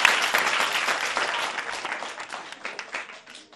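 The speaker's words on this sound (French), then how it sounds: "Applaudissez pour elle." Children in a classroom clap for a classmate, a dense burst of applause that starts loud and gradually thins out over a few seconds.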